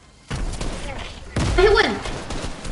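Rapid gunfire bursts in the video game Fortnite hit a wall, loud and dense thumping shots in two stretches with a brief pause between, while a player talks over the shooting.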